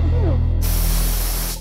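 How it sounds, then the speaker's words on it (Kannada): A pressure cooker whistle releasing steam in a home kitchen, a loud, close, continuous spraying hiss that swells partway through and holds steady until it cuts off. "ಕುಕ್ಕರ್ ಸೌಂಡ್ ಬರ್ತಾ ಇದೆ"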